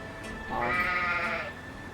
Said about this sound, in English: Alright, so there is a couple of sheep.